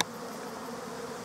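Honey bees buzz steadily as they are moved into a long bench hive, a dense continuous drone that stays close and fairly loud for the whole moment.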